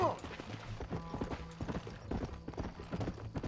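Horse hooves clip-clop at a galloping pace in the Red Dead Redemption video game, quick repeated thuds under a voice, with a brief neigh near the start.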